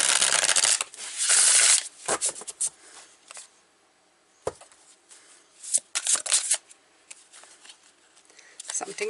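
Tarot cards being shuffled and drawn, bursts of riffling and sliding card noise close by, alternating with quieter handling and pauses.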